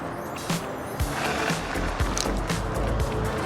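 A VSETT 10+ R electric scooter ridden fast on a trail in dual motor mode, with rushing wind and road noise, low rumbles, and a few bumps and clacks as it speeds along.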